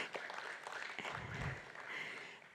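An audience at a conference on captive elephant welfare in India claps as a speaker is welcomed. The applause is steady and fairly soft, a dense patter of many hands with no voices.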